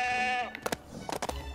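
A goat bleats in a long wavering call in Lego The Hobbit, followed by several short sharp game sound effects, loud and close with no talking.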